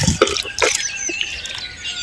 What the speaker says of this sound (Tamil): வாழைப்பு தண்ணியை வந்து நம்ம சேர்த்துக்கிறோம்.